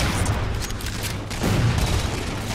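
A frag grenade explosion in Halo 4 during live gameplay, a dull booming blast amid ongoing rumbling gunfire and noisy game action, fairly loud and continuous with no clear isolated peak.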